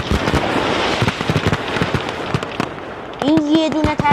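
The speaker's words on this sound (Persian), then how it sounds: "این یه دونه ترقه نبود." Large firecrackers go off in a plowed field, a rapid string of sharp cracking bangs that fills the moment, followed by a brief whistling tone near the end.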